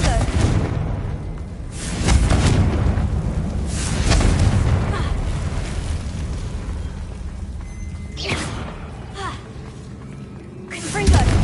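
A Confringo blasting spell goes off in the video game Hogwarts Legacy, a string of loud booming bursts spread through the clip over a steady rumbling game background, with sharp crackling hits near the start, middle and end.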